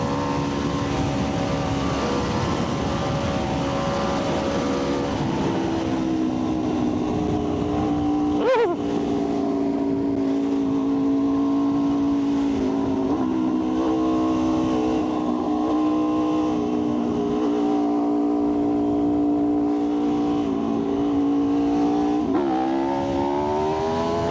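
An Aprilia RSV4 1100 Factory motorcycle engine holding a loud, steady high-revving drone throughout a wheelie, pitch shifting slightly with throttle, close and continuous with no talking.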